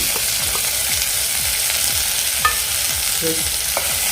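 Chopped medium tomato and chillies sautéed in a pan for upma, with a steady loud sizzle under repeated rhythmic scraping strokes of a spoon, no voices.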